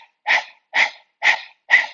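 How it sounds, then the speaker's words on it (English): Breath of fire yoga breathing done with the tongue out like a panting dog: four loud, close, evenly spaced breathy pants in a steady rhythm, with no talking. "stick out your tongue, pant like a dog."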